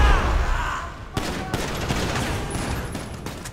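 Gunfire in the video game GTA 5: a loud, dense burst of rapid automatic shots and reports over a busy game soundscape.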